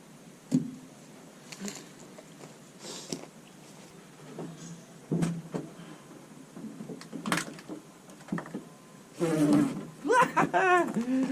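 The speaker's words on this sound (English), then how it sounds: "Bloody wasp in my face, get away." Wasp in October buzzes in short bursts close to the face outdoors beside a Citroen Nemo, its drone flaring and fading irregularly amid handling noises and a few scrapes.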